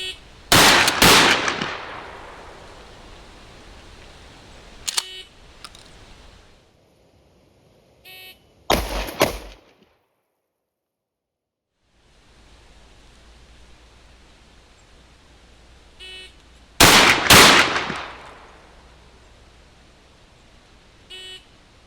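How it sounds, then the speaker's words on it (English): Shotgun fire from a traditional pump-action gun and a semi-auto MAC 1014 with an optic: a few loud, sharp blasts spaced several seconds apart, with quiet handling noise and silence between shots. "can I run the pump gun fast enough to keep up with the semi-auto shotgun and the optic on the MAC 1014?"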